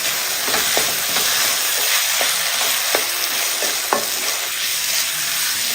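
Potato mixture frying in a pan with tomato and urad dal, stirred with a spoon: a steady close sizzle runs throughout, broken by several sharp scraping clicks of the utensil against the pan, with no talking.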